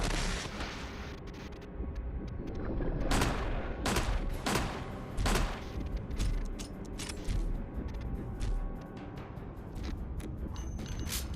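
Gunfire in Resident Evil HD Remaster, several sharp, loud shots spaced irregularly over a low rumbling backdrop, with no talk.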